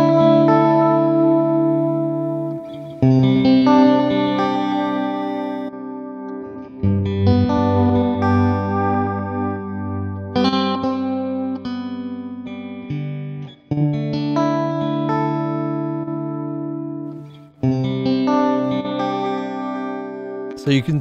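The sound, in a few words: Magic Dice plugin applying random pitch drift and switch effects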